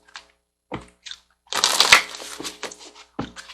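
Soul Coaching Oracle cards are handled for a reading: a few short papery taps and slides, then a dense riffling shuffle burst, followed by more scattered card snaps, close and fairly crisp.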